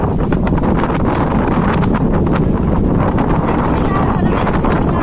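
Strong sea wind at Tajpur beach on an overcast day buffets the microphone with a loud, continuous roar, and any voices are buried beneath it.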